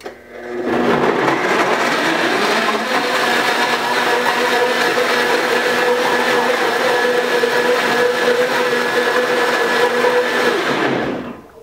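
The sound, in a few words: high-powered blender running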